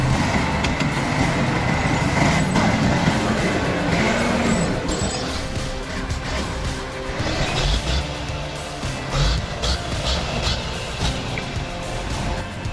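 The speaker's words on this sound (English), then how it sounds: "a red vehicle towing a truck carrying tons of timber through a swampy terrain" A red tracked vehicle tows a truck loaded with tons of timber through swampy ground, giving a steady, heavy engine drone with a low rumble throughout. No voices are heard.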